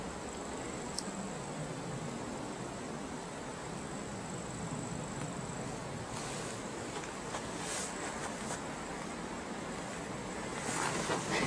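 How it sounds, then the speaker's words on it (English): A river flows in a remote valley, heard as a constant broad rushing wash, fairly steady throughout with faint wind and a few small knocks, and no talk. "You can hear the sound of the river going."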